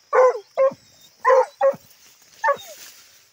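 A dog barks at an armadillo at night, five sharp close barks in uneven bursts separated by short silences.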